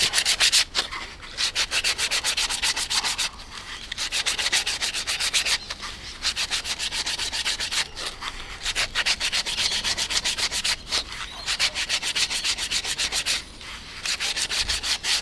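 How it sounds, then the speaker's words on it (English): Sandpaper works around the edge of an MDF cradle round in a steady, close rasping rub, long strokes with brief pauses between them, alone without talk. "Then sand all the way around the edge of here."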